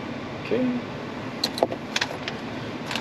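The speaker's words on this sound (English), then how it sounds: "there's the keys" Keys for a center console safe in a 2022+ Toyota Tundra or Sequoia jangle in a few brief metallic clinks, close and fairly faint over a quiet background hum.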